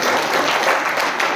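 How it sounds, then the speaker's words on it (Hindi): An audience at a church gathering claps loudly and steadily for the whole short moment, a dense, close wash of hands with no break. "जोरदार ताली।"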